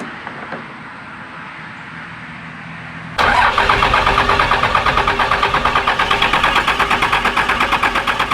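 Diesel truck fitted with 275 horsepower injectors cranks after a quiet lead-in, catching suddenly into a loud, rapid, rhythmic clatter that keeps pulsing steadily close by.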